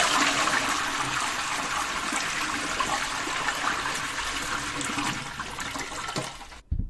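A toilet flushing about a meter away, a loud steady rush of water running nearly seven seconds before cutting off abruptly.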